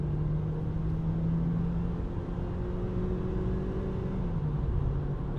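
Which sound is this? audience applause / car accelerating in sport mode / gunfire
car accelerating in sport mode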